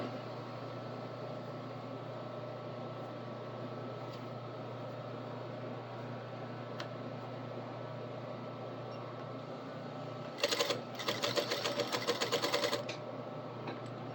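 A sewing machine stitches an Edwardian collar, its steady motor hum running throughout, with a louder burst of rapid, rattling stitching near the end; no one speaks.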